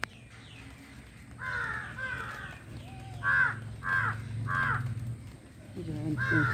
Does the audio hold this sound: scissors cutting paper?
no